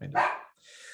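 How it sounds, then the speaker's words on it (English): A pet dog lets out a single close, sharp bark followed by a fainter trailing yip in an otherwise quiet indoor room. "I don't know why he likes barking for no reason."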